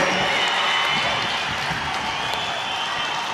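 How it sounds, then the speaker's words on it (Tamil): A large crowd at a women's anti-liquor conference claps and cheers steadily to pass resolutions, a dense continuous wash of applause and raised voices at fairly even loudness throughout. "கைகளை தட்டி ஆரவாரம் செய்து நிறைவேற்றி தருமாறு உங்களை மெத்த பணிவோடு கேட்டுக் கொள்கிறேன்"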